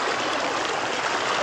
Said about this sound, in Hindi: यहाँ पे भी हर जगह से पानी बह रहा है